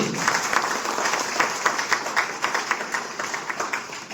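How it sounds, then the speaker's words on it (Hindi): Audience applause at a business-plan seminar, a dense wash of many hands clapping steadily for several seconds with no talk over it, fairly close and even in loudness. "एक बार से जबरदस्त ताली होनी चाहिए"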